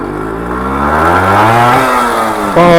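A Suzuki Shogun two-stroke motorcycle revs hard, its loud buzzing engine climbing steadily in pitch as it pulls through the gear, then briefly drops and surges again at the close, heard up close with no talk.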